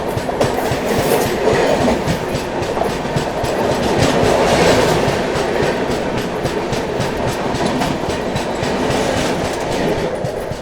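The Farakka Express rolls along the rails in a loud, continuous rumble with rhythmic clickety-clack from the wheels over joints, heard close from inside the moving train.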